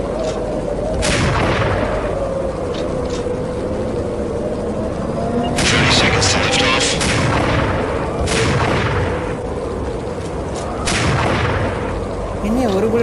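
Gunfire in the Max Payne video game: several loud sharp shots and booms spaced over a steady low rumble, with someone talking over the action.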